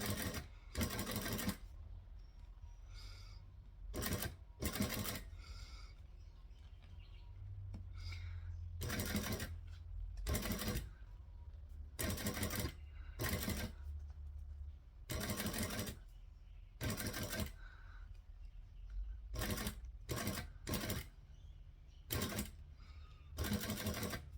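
A sewing machine stitches in many short bursts, each run lasting about a second and separated by brief pauses, close and fairly loud with no talking.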